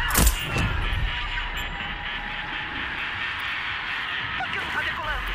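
An aircraft engine drones steadily during a takeoff attempt in the Deathloop game, a constant mid-high whine and rumble with a sharp transient at the start and faint extra tones near the end.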